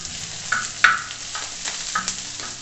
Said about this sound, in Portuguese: E aqui nas laterais estão o bacon e a linguiça aguardando a carne seca fritar juntamente com a cebola